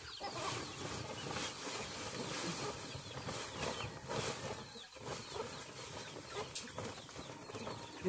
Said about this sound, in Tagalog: daming manok sa likuran ko mga kapartner